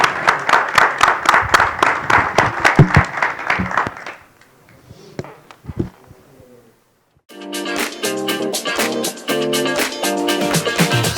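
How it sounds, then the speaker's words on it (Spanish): Dense applause from a seminar audience at an agricultural forage conference, honoring two speakers after their talk; steady clapping for about four seconds, then it thins out into scattered claps before bright music comes in. "un fuerte aplauso para ellos dos"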